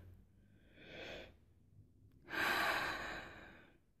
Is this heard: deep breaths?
yes